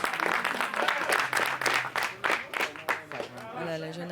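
Applause from photographers and onlookers at a Cannes Film Festival 2021 photocall for the competition film Red Rocket, a dense run of hand claps with crowd noise and talk mixed in, fading toward the end.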